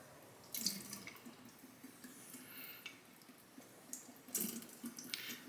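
Water running from a tap during sharpening on an Imperial La Roccia finishing stone, a faint steady trickle and splash with brief louder spurts, quiet and close.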